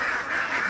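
Ducks on a duck farm quack in a dense, continuous chorus, close and loud, with no talk over it.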